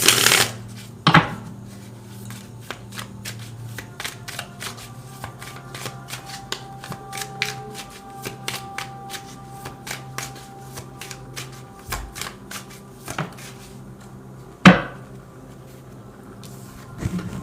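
Oracle advice cards being shuffled, a long run of close, steady riffling and flicking of the deck, broken by a few sharper card slaps and taps.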